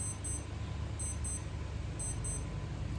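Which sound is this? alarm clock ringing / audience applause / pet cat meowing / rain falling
alarm clock ringing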